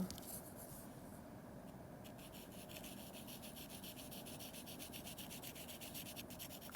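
Fingers rubbing and blending charcoal on drawing paper, a faint continuous dry scuffing with soft rhythmic strokes, close and quiet, with no talk.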